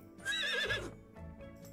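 Close, loud horse whinny from The Sims 4, an American Quarter Horse, rising and falling for about half a second, then quieter background game sound and faint hoof-like clip-clop.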